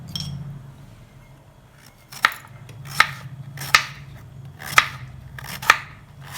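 A knife chops through snake gourd on a cutting board, cut lengthwise for kootu: five sharp, evenly spaced knocks ring out close and clear over quiet background hiss.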